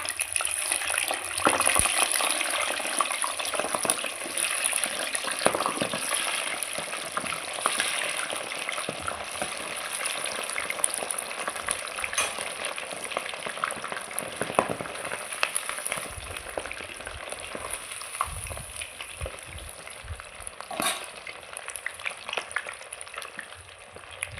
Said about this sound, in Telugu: నూనె కాలింది ఇట్లా ఒక్కొక్కటి వేసుకోవాలి